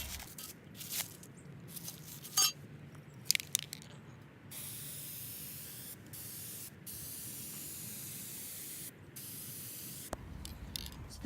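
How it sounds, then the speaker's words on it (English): A spray can sprays paint onto IKEA stool parts in long steady hissing bursts with short pauses between them, near and clear, with a few rattles and clicks. "I'm going to go back in with my spray can"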